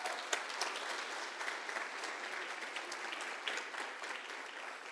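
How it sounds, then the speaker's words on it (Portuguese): A church congregation applauds during a sermon, steady, even clapping from many hands that carries on through the whole stretch, heard from a distance and fairly quiet, with no speaking over it. "Você pode aplaudir o Senhor Jesus por isso?"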